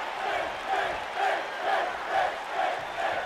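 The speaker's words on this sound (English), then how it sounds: "the Arkansas crowd starting to rile behind Bálor again, trying to cheer him on here" Arena crowd in the wrestling video game WWE 2K19 rallying behind a wrestler, a loud rhythmic chant rising and falling in regular pulses about twice a second.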